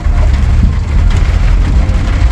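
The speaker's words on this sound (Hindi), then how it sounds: "जोरदार बारिश हो रही है, ये देखिए नज़ारा बाहर का।" Heavy monsoon rain pours outside a cab in Indore city, India, a loud, dense and continuous hiss of drops drumming on the car body with a deep rumbling low end and no pauses.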